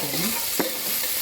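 Whole spices such as cinnamon, star anise, bay leaves, peppercorns and cloves sizzle in hot oil in a pan while being stirred, a soft frying hiss with one sharp scrape, close by.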